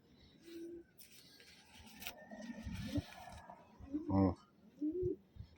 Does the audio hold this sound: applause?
no